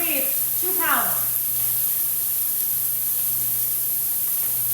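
Two pounds of ground beef hit a hot pan for chili, giving a loud, constant broadband sizzle that fills the whole stretch after a brief voice at the start.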